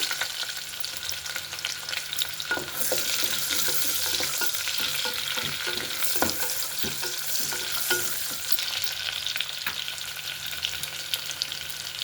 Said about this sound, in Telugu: రా మసాలా వేగిన తర్వాత ఆనియన్స్ వేస్తున్నాను